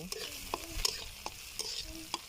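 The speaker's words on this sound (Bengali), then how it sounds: "এখন এটাকে আমি তেলের মধ্যে ভালো করে ভেজে নিচ্ছি এবং একটু লালচে কালার করে" Chopped onions, sliced chillies and salt frying in hot oil for a quick radish-greens dish, heard as a soft steady sizzle broken by several distinct scraping stirs from a spatula, close by and with no talking.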